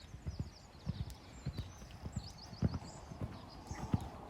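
A horse canters through a dressage test on a dusty arena, its hooves landing in a steady, rhythmic run of close, thudding beats about every half second, with faint high chirping in the background and no talk.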